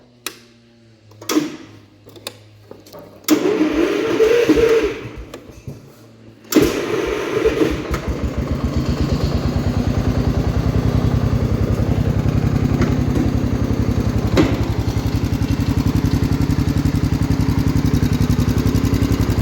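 A 1969 Gravely 432 walk-behind tractor engine with a freshly rebuilt carburetor cranks over in a few short bursts, then catches and settles into a steady, loud, close running drone that carries on to the end.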